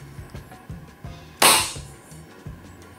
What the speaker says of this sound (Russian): просто жмете, и сразу происходит практически выстрел